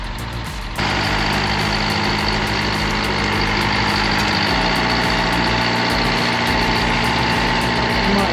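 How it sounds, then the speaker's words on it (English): A vintage road grader, dormant for over two decades, runs on its diesel engine after a jumpstart, with a loud, steady, close-up rumbling idle that kicks in after a brief moment and continues without pause. "A grader, dormant for over 2 decades, roars back to life with a simple jumpstart."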